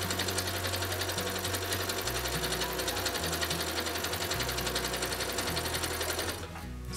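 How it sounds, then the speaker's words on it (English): A sewing machine stitches fabric for reusable un-paper towels, running in a fast, steady mechanical whir with a slight pitch shift partway through, then stopping abruptly near the end. "do some back stitches to back tack, and then go ahead and sew"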